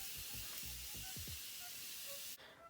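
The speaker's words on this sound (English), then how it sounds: "I'm going to use my Morphe Continuous Mist to set my face." Morphe Continuous Mist setting spray is sprayed onto a face as one long, even, airy hiss lasting about two seconds that stops abruptly, with faint low murmurs near the start.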